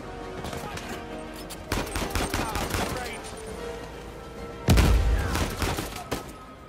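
Gunfire in the Uncharted 4 video game, repeated bursts of sharp shots in clusters with a heavy, loud volley near the end, mixed with game sounds and occasional talk.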